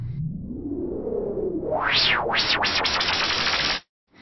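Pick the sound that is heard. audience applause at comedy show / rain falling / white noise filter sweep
white noise filter sweep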